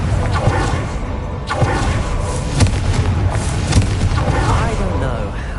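Confringo spell blasts in the video game Hogwarts Legacy, several loud thumping booms over a constant rumble, with voices calling out during the combat.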